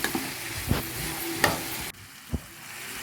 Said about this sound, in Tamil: இது கூட தக்காளி சேர்த்து நல்லா கிண்டி விட்டுக்கோங்க